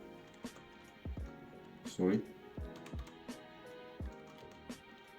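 Close keystrokes on a computer keyboard while writing JavaScript code: a handful of irregular clicks and soft thumps spread over several seconds, one brief flurry in the middle, over a steady low background hum.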